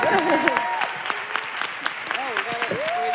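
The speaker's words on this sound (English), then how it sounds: "Can we give them a round of applause?" Applause from an audience for five pitchers taking a bow at a pitch event, steady moderate clapping throughout with voices talking over it at times.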